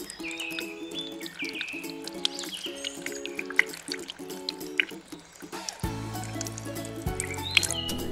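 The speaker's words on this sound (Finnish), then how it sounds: "Kaadetaan sisään vettä." Water trickles and drips into a toy cement mixer during children's sand play, light splashing and dribbling sounds with bright chirpy tones, ending in a steadier pour near the close.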